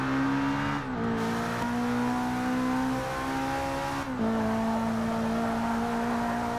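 Race car engine in Forza Motorsport 6, a Ferrari 488 GTLM or GT3, droning steadily at high revs with brief dips around gear shifts, loud and continuous with no talk over it.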